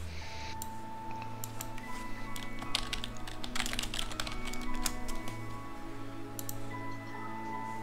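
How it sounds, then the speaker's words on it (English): Keys on a computer keyboard clatter in quick, uneven bursts of clicks, close and clear, with a faint steady hum underneath. "Me typing on my keyboard."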